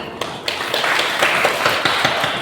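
An audience claps at a stage event honoring silent heroes, a steady dense patter of many hands, fairly close and even in level, with no voices over it.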